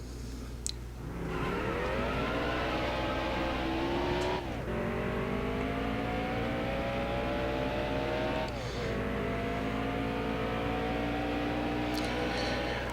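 The number 99 stock car's engine in NASCAR Heat Evolution at Daytona, a loud close onboard roar climbing in pitch through gear after gear, with three distinct upshifts and a constant low drone underneath.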